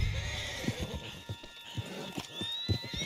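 A horse in the Red Dead Redemption 2 western game whinnies over a steady clip-clop of hooves, with repeated hoof strikes at fairly close range and no speech.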